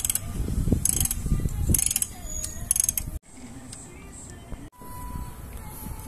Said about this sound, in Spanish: Vamos a quitar igual el tornillo del soporte y ahorita le volvemos a dar.